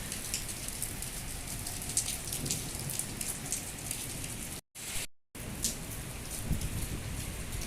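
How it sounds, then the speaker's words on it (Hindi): Heavy rain pours down in Makkah, a dense, steady hiss of drops on hard surfaces that drops out twice briefly, with no voices. "ये देखिए मक्का मुकर्रमा में कितनी तेज़ बारिश हो रही है"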